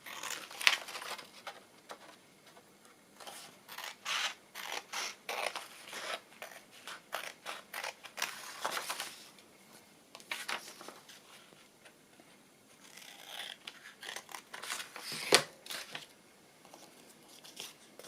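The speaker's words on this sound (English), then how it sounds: "Scissors." Scissors snip through paper while trimming pockets for an autumn-themed altered book, a run of short crisp cuts in irregular bursts with brief pauses between, close and fairly quiet with no talking.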